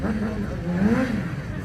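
A motorcycle engine revs steadily while the bike drifts with 4 kg of pressure in the rear tyre, making a continuous wavering mid-pitched drone that rises and falls slightly.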